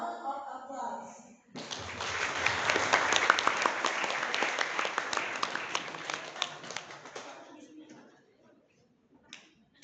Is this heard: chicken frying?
no